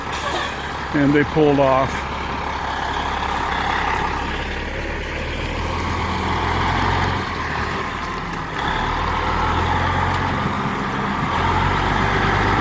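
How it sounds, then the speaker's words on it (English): A dump truck towing a trailer reverses in, a steady low diesel engine drone near and continuous, with a few short tonal beeps early on while someone speaks briefly. "he is backing the dump truck and trailer in"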